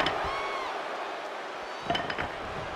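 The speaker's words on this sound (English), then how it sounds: "Io Sky getting the crowd involved here." A steady roar from an arena crowd in the WWE 2K24 wrestling video game fills the background throughout during an NXT Gold Rush match, with a brief swell of louder cheering near the end.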